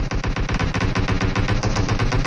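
M16 rifle fire in a video game, a loud, steady full-auto burst of rapid shots running the whole time with no talk over it.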